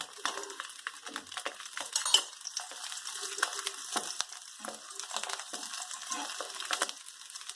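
Quiet crackle and light sizzle of an egg frying in oil in a pan, with soft scrapes and clinks of a utensil against the pan scattered throughout.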